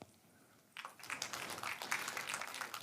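An audience at a Stir Trek 2024 conference talk breaks into applause after a brief quiet moment, a sustained wash of many hands clapping that sounds somewhat distant and moderately faint.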